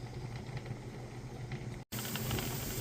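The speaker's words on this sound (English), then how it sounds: "letting the steam come out" Steam hissing from a pressure canner loaded with meatballs, a steady close, dense hiss over a low hum, briefly cut off for an instant before resuming slightly louder, with no talking.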